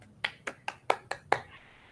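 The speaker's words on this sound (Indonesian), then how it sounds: "tepuk tangan untuk kelompoknya Nurul ya" Students in a classroom clap about six times at an even pace, each clap sharp, short and fairly faint, with a quiet room behind.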